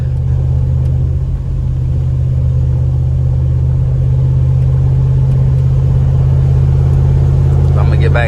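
A 2000 Dodge Durango with a muffler delete and only a gutted catalytic converter idles and rumbles with a deep, loud, steady exhaust drone throughout, with people talking nearby.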